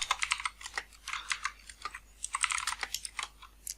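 Rapid typing of code on a computer keyboard, with close, crisp key clicks in quick irregular bursts and brief pauses, heard alone without any talking.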